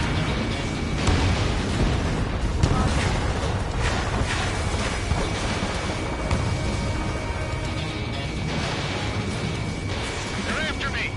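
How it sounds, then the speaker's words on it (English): Missile launches and explosions in the jet combat game Ace Combat 7 make a dense, continuous roar, with heavier booming bursts rising out of it. Voices come through over the din. "Missile launched."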